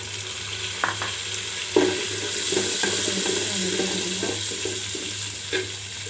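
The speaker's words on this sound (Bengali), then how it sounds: "এখন আমি তেলের মধ্যে পেঁয়াজ কুচি দিয়ে দিব" Chopped onions frying in hot oil for Chattogram-style chicken biryani: a continuous crackling sizzle with intermittent stirring clicks and a low steady hum in the background.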